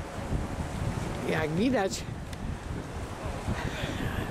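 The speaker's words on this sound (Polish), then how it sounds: "ładnie fale biją, podmuch wiatru jest ładny" Wind gusts buffet the microphone at a seaside pier in Gdynia, Poland, with waves washing below, a steady rough roar throughout while someone talks briefly over it.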